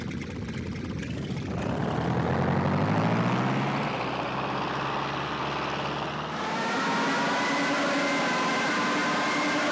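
Rising wail of the Junkers Stuka's Jericho siren in Flight Simulator X, climbing in pitch over a loud droning engine, then settling into a steady high whine with the engine rumble continuing beneath.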